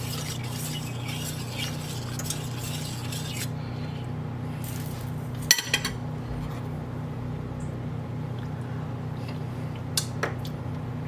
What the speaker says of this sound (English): Give that a bit of a stir.